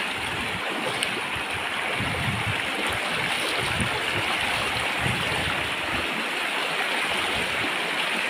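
River at San Jose, Nueva Ecija rushing steadily over stones in a continuous close, full-bodied wash of water with no voices over it.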